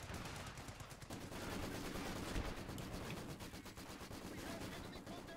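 Dense, continuous machine gun fire from Maxim guns rattles throughout a World War II battle game, with overlapping rapid bursts and distant impacts, fairly loud and unbroken.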